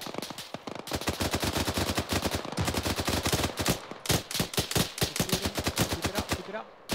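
Sustained automatic gunfire aimed at a technical in the military shooter Arma 3, rapid loud bursts of rounds repeating for several seconds with only brief pauses between strings.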